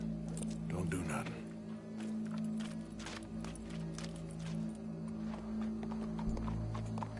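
Horse hooves clip-clopping steadily in the Red Dead Redemption 2 video game, a rhythmic run of close hoofbeats over a low hum of game music and ambience, with voices talking over it.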